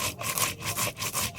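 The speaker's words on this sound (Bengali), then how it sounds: "ভাজা মশলাটা এবার বেটে নিচ্ছি।" Fried spices are ground on a grinding stone, making a rhythmic, close scraping rub of about four back-and-forth strokes in quick succession, with no voices.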